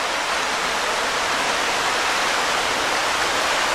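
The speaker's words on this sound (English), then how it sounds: "You could hear the sound of the creek as you slept." Darby Creek flowing steadily near the Lower Swedish Cabin in Pennsylvania, a continuous broadband rush of water that holds even and close throughout, with no voices.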